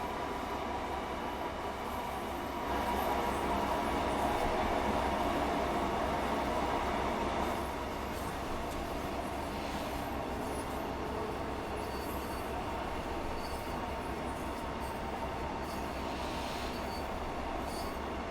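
A Class 150 diesel train running on the West Cornwall line in Train Sim World 2, a steady rumbling engine drone with rolling wheel noise that swells briefly, then settles, continuous and close.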